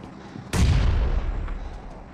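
A bomb explodes in the BGMI battle royale video game, giving a sudden loud boom with a rumbling tail that fades over about a second and a half.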